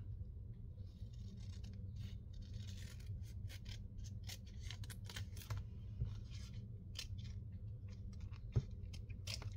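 Scissors snip a paper tag close by, a quiet series of small cuts and rustles over a low steady room hum, with no talking.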